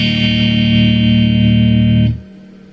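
An electric guitar with a single-coil pickup rings out a loud sustained chord straight into an amp with light reverb, holding steady for about two seconds before cutting off abruptly into a faint reverb tail.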